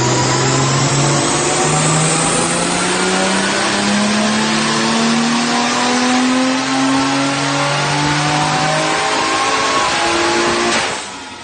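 An RB26 car fitted with an R35 coil kit runs hard on a dyno, the engine note climbing steadily in pitch through a long loud pull for about eleven seconds before cutting off abruptly.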